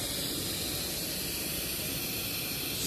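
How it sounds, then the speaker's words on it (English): Steady broadband hiss of water spraying from a hose-end sprayer on a RapidFlo 100 ft expandable garden hose, continuous and fairly close, with no voices. "Spraying everything nice and evenly."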